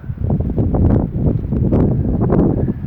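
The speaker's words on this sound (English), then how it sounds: "the wind's quite bad tonight" Strong night wind buffets the microphone outdoors near a place of worship, a loud continuous low rumble with gusting swells and no voices.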